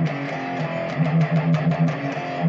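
Electric guitar played through a TSA box placed after a Grind Machine plugin, giving a distorted, buzzy tone with sustained notes and picked attacks in a short riff, alone and close.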